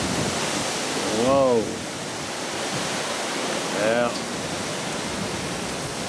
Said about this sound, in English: Pretty strong wind.